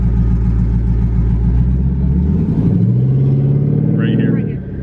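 A 1000hp turbocharged Mustang's engine rumbles loudly up close and revs, with a rising turbo spool whine and a brief high whistle near the end. Voices talk over it.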